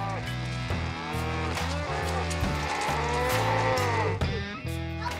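Cattle moo in a Montana ranch corral, several long low bellows following one another at close range, loud over a busy background.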